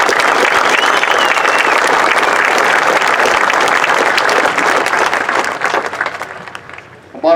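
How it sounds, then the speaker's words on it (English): A crowd claps loudly and continuously at an opening ceremony of the 2016 Warrior Games at West Point, the applause holding strong before fading out near the end. "How about a round of applause?"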